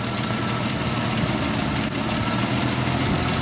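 A Jeep engine idles with a vacuum hose disconnected, a steady loud rumbling drone held close throughout with no one speaking.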